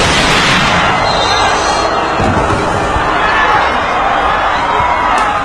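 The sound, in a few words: grenade explosion on a basketball court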